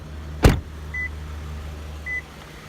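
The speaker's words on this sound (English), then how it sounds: "That beeping is to let me know that the key has left the interior of the vehicle" A dull thud, then two short, clear electronic beeps about a second apart from a 2009 Lexus ES 350 signaling the key left the car, with a low steady vehicle hum underneath.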